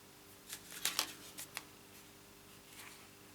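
Scissors snip through tape to cut it into a point for card making, a few quick, crisp clicks clustered close together and then one more faint snip after a pause, with no talk.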